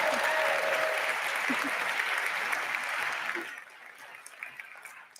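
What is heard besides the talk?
audience applause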